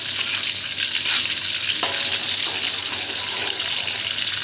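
Shallots sizzle and fry in hot oil while being stirred, a steady bright hiss with occasional scraping, close and continuous, for an Acehnese stir-fried fish dish.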